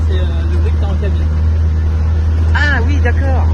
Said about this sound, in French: C'est le moteur de la machine là.